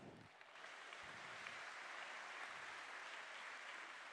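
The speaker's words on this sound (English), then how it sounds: "Give yourself a round of applause." A conference audience at a closing plenary session breaks into applause: dense, steady clapping from a large crowd that holds at an even level throughout.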